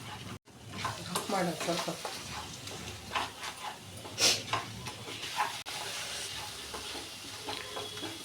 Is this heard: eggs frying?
yes